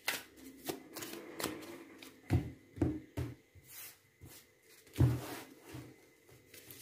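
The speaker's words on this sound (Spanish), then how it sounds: "Vamos a sacar 4 cartas más de este otro oráculo para ver qué nos dicen." Oracle cards being shuffled and drawn by hand, a run of soft papery riffles and sharp slaps spread over several seconds, close and fairly quiet with no talking.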